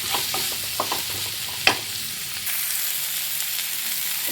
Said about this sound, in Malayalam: ഇത് നന്നായി ഇളക്കിയതിന് ശേഷം ഒന്ന് വാടി വന്നതിന് ശേഷം